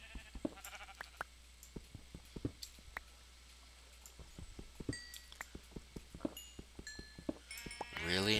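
Minecraft sheep bleat among scattered clicks and taps underground in a cave, the cries faint and intermittent beneath a steady patter of small sounds, with a louder burst at the end.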